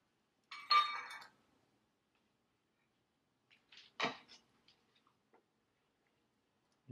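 A utensil clinks against a bowl while soy sauce is stirred into a mixture for steamed mahi mahi, giving a few sharp, close taps separated by silence.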